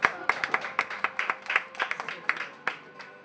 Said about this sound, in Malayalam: അതിന് നമുക്ക് ഒരു കയ്യടി കൊടുക്കാം